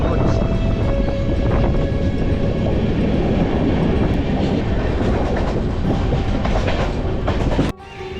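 The Jammu Mail train rolls along the rails with a loud, continuous rumble and rattle that cuts off abruptly near the end.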